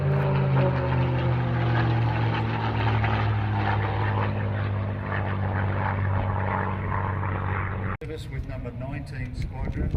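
A WW2 Spitfire propeller aircraft flies at an air show, its engine a steady loud drone that holds for several seconds before shifting abruptly, with a commentator talking over it.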